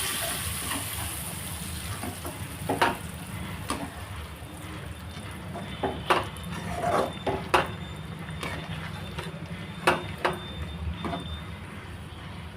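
Black gram fritters being stirred into brinjal curry in a pan off the heat, giving soft scattered clinks and scrapes of a spoon against the pan over a steady low background hiss, close by.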